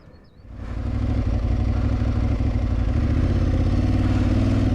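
A close Aprilia Tuareg 660 motorcycle engine chugs along at low revs near tick-over, a steady rumbling throb that rises quickly from quiet and holds even.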